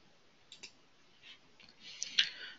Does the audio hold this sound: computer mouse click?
yes